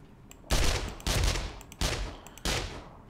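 Four loud shotgun blasts ring out in the video game 7 Days To Die, spaced roughly half a second to a second apart, each a sharp crack with a short decaying tail.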